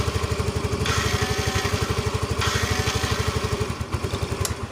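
A motorcycle starter motor keeps spinning on its own, a steady loud rapid whirring chug with regular pulses that carries on throughout.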